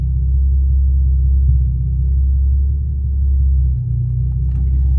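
Infiniti G35 coupe with a six-speed and a Kinetix intake manifold, idling on first start-up with a deep, steady low rumble, close and loud, without talk.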